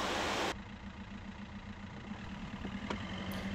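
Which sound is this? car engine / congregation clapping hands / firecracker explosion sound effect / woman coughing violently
car engine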